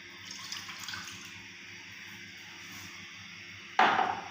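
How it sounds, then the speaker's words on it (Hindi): Water poured from a glass into a cooking pot on a lit stove for beef karahi, a soft hiss at first, then a louder sudden splash near the end. "सबसे पहले मैं इसमें डालूँगी 1 गिलास पानी"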